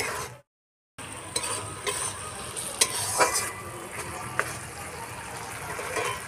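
Chopped tomato hits hot oil in a pan while cooking egg pulao, a steady close sizzle with occasional stirring clatters after a brief cut of silence.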